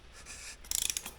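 A socket wrench turns the crankshaft of a 1980 Triumph TR7 engine: a soft rub, then a quick run of about eight ratcheting clicks, close and fairly quiet.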